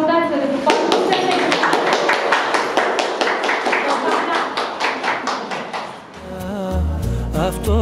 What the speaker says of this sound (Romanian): Puteți să aplaudați